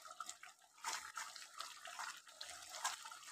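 Water poured into a pot of chicken curry to rinse spices from the sides, a soft, faint splashing and trickling that runs for a few seconds.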